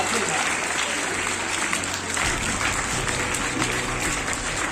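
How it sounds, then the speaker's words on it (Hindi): An audience at a school painting-competition prize ceremony for World Water Day claps for a student winner, dense and loud continuous applause with a speaking voice over it. "तालियों से उसका स्वागत किया जाए।"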